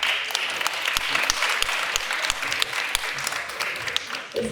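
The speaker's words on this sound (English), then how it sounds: "I would like to invite you to give me a short big round of applause." A panel discussion audience gives a dense, steady round of applause that stays loud and continuous for several seconds, with sharper individual claps standing out.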